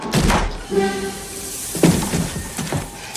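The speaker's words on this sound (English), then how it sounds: "Someone knocks the door." In a scene from the 1993 Super Mario Bros film, someone knocks on a door. A few dull, muffled thumps rise above a soft bed of film sound, with a sharper knock near the middle.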